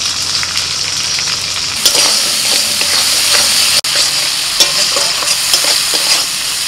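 Ground turmeric, cumin and coriander fry in a pan for moong dal with pointed gourd, giving a loud, steady sizzle broken by scraping stirs and the occasional clink of a spoon.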